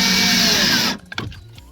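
A power driver whirs loudly for about a second, driving screws into a rear door speaker bracket on a 2017 Nissan Versa, then stops, followed by a few quiet clicks and handling noises.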